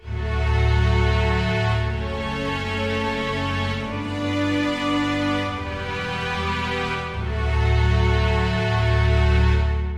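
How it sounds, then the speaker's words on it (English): A lush synthesized string pad plays sustained chords on a keyboard, swelling and changing harmony every couple of seconds, with no voices. "now we'll be playing a more interesting string sound"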